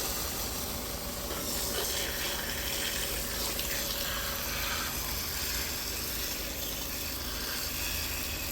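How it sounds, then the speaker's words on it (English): Steady spray of water hosed over the intercooler, radiator, plastic fins and crash bar at the front of a Stage 3 tuned 1.5 TDI with the bumper off, a continuous close hiss with no talk. "Now spray the water on those areas and clean all the intercooler, radiator and the plastic fins or the crash bar"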